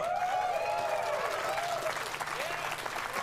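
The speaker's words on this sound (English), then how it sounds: "They applaud him for good practices." An audience applauds during the Battlefield V reveal livestream, a dense, sustained patter of clapping that continues steadily at moderate loudness, with voices and tonal sounds running over it.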